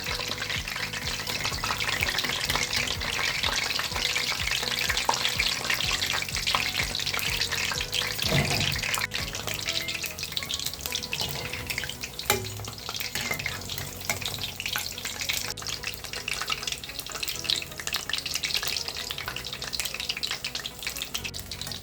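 Cauliflower florets frying in hot oil give a dense, steady sizzle for the whole stretch, with occasional stirring clinks and a brief watery rush partway through, and no voices.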